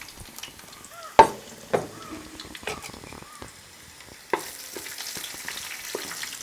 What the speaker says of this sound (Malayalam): അപ്പോൾ നമ്മുടെ വെളുത്തുള്ളി എല്ലാം ഒന്ന് മൂത്ത് വരുന്നുണ്ട്